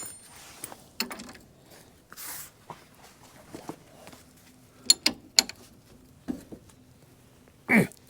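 A hand ratchet works loose the shackle bolts on a Jeep Cherokee, giving scattered sharp metallic clicks and clanks against a quiet garage background with pauses between strokes.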